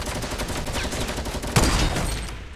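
A burst weapon fires in the Fortnite video game, quick rattling shots over a busy game background, with one louder burst partway through.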